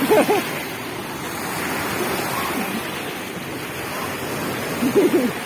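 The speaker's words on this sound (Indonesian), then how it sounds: "Ih, ombaknya besar." Large ocean waves at a beach give a continuous rushing roar of surf, with brief voices heard at the start and again near the end.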